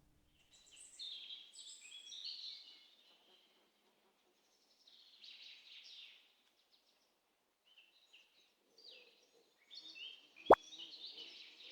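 Ambient birdsong from a cute indie town builder game plays in short, faint bursts of chirps and twitters separated by quiet gaps, with one sharp click near the end and no talk.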